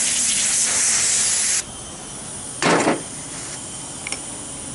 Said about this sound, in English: Take some brake cleaner, spray it onto a paper towel or shop rag.